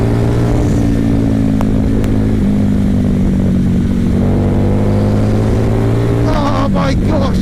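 A 2016 Harley-Davidson Night Rod motorcycle engine drones loud and steady at a held rev, rising in a brief burst of revving near the end, with wind rush over the rumble.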